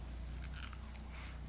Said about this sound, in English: I can do some crunch bites.